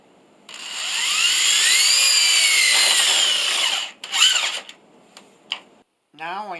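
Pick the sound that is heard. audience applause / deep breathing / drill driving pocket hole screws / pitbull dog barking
drill driving pocket hole screws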